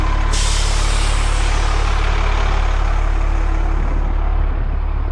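A bus on a test trip, its engine running loud and steady close by, with a brief hiss like an air brake at the start over a constant low rumble.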